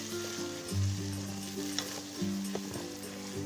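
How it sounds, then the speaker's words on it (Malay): Prawns frying in a pan as curry leaves, black pepper and garam masala are stirred in for a Kerala prawn roast, a steady close sizzle with a few scraping stirs of a spoon and no talk. "Masukkan 2 tangkai daun kari, setengah sudu kecil serbuk lada hitam, suku sudu kecil serbuk garam masala dan kita gaul kesemuanya."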